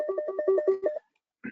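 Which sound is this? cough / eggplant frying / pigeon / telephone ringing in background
telephone ringing in background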